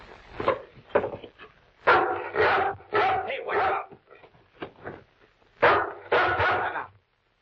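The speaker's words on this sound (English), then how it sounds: "That dog might be a killer." A dog barks repeatedly in a radio crime drama scene, sharp loud bursts in short clusters mixed with tense dialogue, voices speaking over and between the barks.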